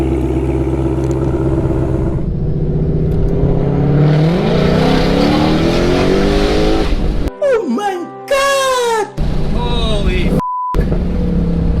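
A 2020 Ford Shelby GT500 Mustang accelerates hard on the street, its loud engine revving and climbing in pitch close by. A brief burst of squealing or chirping sounds follows near the end.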